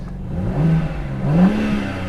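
A BMW M3 engine revved while stationary, giving two smooth rising-and-falling throttle blips over a steady idle hum, close and fairly loud with no talking.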